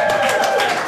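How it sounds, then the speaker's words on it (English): A studio audience claps during a local live show. Dense, steady applause sounds throughout the short moment at a moderate level. "all I gotta do is start clapping. Studio audience, they start clapping."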